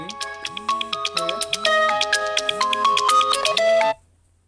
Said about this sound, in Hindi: सॉरी जो है थोड़ा सा अलार्म बज गया था फोन में